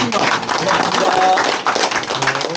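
Audience applause at a Suncheon meeting for a newly named education committee chair of the Jeonnam provincial council; a dense, steady wash of clapping fills the room with voices mixed in.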